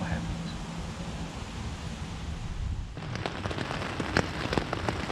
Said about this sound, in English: Well, as you can probably hear, it started raining.